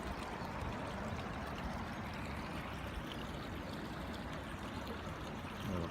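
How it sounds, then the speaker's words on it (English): Steady, faint rushing water from a small tributary of Sligo Creek flowing beneath a bridge toward its meeting with the main creek, a continuous even wash with no talking. "the tributary comes out beneath that bridge, running toward me in my direction, and meets in with the main Sligo Creek"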